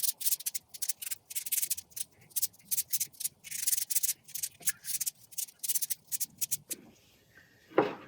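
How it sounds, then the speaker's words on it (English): A wooden mallet is sanded by hand, giving rapid, rhythmic scratchy strokes in close bursts with short pauses, then a quieter stretch and a brief handling noise at the end. "I'm going to go ahead and hand sand this with my hand to try and make the shape of my hand for this."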